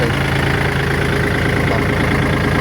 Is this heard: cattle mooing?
no